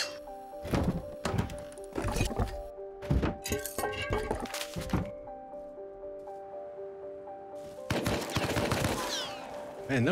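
Bursts of sprayed gunfire in the survival video game Rust, rapid loud cracks in several clusters separated by brief pauses, close up and dominant, with a sustained tonal drone between volleys.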